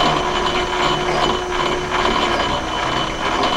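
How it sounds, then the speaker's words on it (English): Steady grinding, whirring machining noise from drilling into a Workhorse master cylinder, continuous and fairly loud with a ratcheting mechanical texture throughout. "So I'm going to drill it, and then I'm going to bore it to the proper inside dimension."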